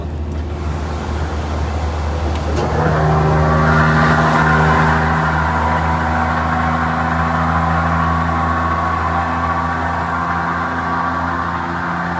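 A truck with a faulty exhaust brake rumbles at a deep, loud idle, then revs up about three seconds in and holds a droning, humming exhaust note with a steady low tone to the end.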